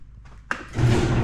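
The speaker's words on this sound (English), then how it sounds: "Let me open the garage door." A home garage door starts opening with a soft click and then a sudden clunk, followed by a loud, steady rumbling roll of the door mechanism.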